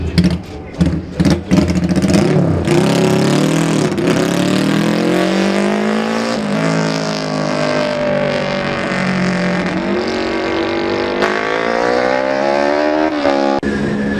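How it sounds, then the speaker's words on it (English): A Yamaha racing motorcycle at the Classic TT junior race screams past close by, its engine note climbing through gears with a Doppler pitch sweep, loud and sustained, after a few sharp bursts at the start. "This is number 38, Dave Edwards, on his Yamaha in 28th position"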